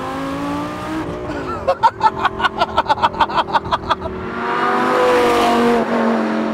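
Supercharged Lamborghini Gallardo with 760 all-wheel-drive horsepower accelerating hard, a rising engine note breaking into a rapid run of sharp gearshift or limiter pulses before settling into a loud sustained roar.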